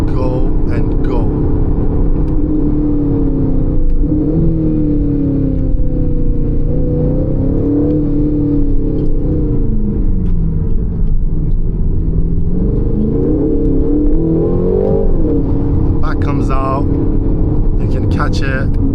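A 2025 Aston Martin Vantage engine revs and pulls hard in loud, sustained droning waves, its pitch rising and falling through gear changes. Someone talks over it the whole time.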